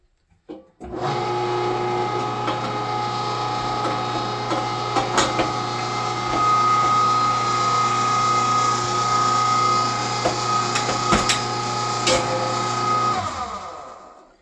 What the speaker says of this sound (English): run a couple pieces of bread through your grinder, and it'll push the remaining meat out